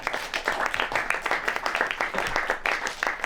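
An audience at a film screening at the Cinémathèque suisse claps to welcome a co-director on stage, a steady dense round of applause lasting throughout, fairly close and full.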